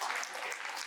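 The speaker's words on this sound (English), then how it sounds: "You can clap for that." An audience claps for a short, steady burst of dense, fairly faint applause with no talk over it.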